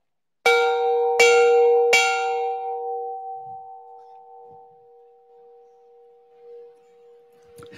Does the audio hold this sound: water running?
no